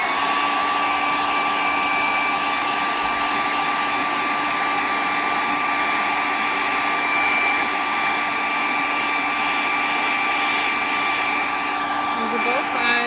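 A heat gun blows continuously beside a medical IV training arm, a loud, steady high-pitched whirring roar with a constant tonal whine that holds unchanged for several seconds, no one talking.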